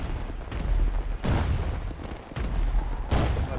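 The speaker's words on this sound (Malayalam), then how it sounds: "ബാക്കി പടക്കൊക്കെ പൊട്ടിക്കുന്നുണ്ട്" Firecrackers burst at a birthday celebration, with three loud, sharp bangs spaced about a second apart, each followed by a rumbling, crackling tail, and no talk over them.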